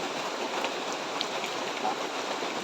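Steady rain falls in an even, continuous hiss, close and fairly loud, with no other sounds standing out.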